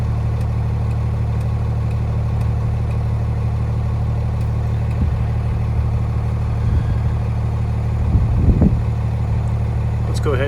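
A 2017 Freightliner M2 box truck with an 8.9 liter i6 Cummins engine idles with a steady low rumble, joined by a few brief knocks and a louder rattling burst near the end.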